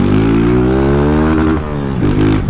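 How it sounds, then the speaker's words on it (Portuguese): A Honda Titan 160 motorcycle engine revs loudly and close, its harmonic drone rising and falling through a short throttle dip and pickup, with no talking over it. "minha moto parou de falhar"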